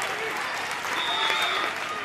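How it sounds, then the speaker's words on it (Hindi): A crowd claps and cheers at a village wrestling dangal, with dense, steady applause filling the whole moment at close range. "तालियां बजा करो बच्चे।"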